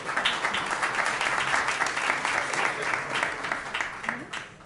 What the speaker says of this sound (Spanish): Reiteramos entonces el aplauso a la doctora Fuenzalía.